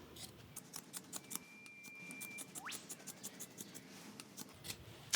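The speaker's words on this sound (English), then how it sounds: "the first thing we want to do is cut the hem of the t-shirt off" Quiet, repeated snipping and scratching of sharp scissors cutting the hem off a t-shirt, a series of short soft cuts through the fabric at close range.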